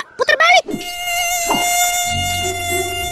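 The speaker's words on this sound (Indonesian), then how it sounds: "Nih kalau ada nyamuk lewat, hamba makan juga nih." A mosquito buzzes with a steady, thin, high whine that hangs on close and unbroken for several seconds, after a few short, loud bursts at the start.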